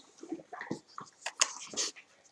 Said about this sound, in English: this is the new dog, Bailey.